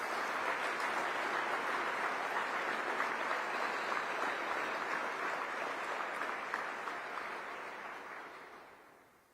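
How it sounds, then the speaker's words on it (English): Sustained, loud audience applause for emergency responders, a steady wash of many hands clapping that holds for several seconds and then gradually fades out toward the end. "Let's give them a big round of applause for their great work."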